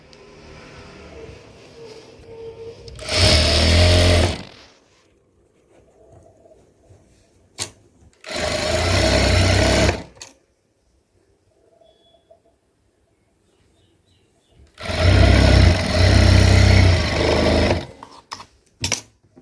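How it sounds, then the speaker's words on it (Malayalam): Household sewing machine stitching the puffed sleeve of a garment, running in three separate loud bursts of a few seconds each with quiet pauses between them and faint bird cooing in the background. "ഇങ്ങനെ ആദ്യം ഒന്ന് മടക്കി കൊടുത്തിട്ട് പിന്നെ ഇതിൽ വെച്ച് തയ്ച്ച് കൊടുക്കണം."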